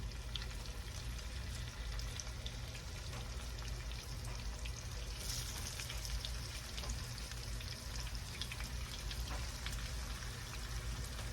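Parmesan-crusted pork chops frying in a pan, a steady, fairly quiet sizzle and crackle that continues evenly throughout with no talking.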